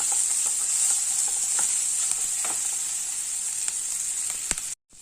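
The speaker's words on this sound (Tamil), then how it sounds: "இதுலேயே நம்ம இந்த மஞ்சள் தூளையும் சேர்த்துடலாம் நல்லா வதங்கட்டும்" Vegetables sautéing with turmeric in a pan for capsicum rice, giving a steady bright hiss of sizzling oil broken by occasional light stirring taps, close and even, and cut off abruptly near the end.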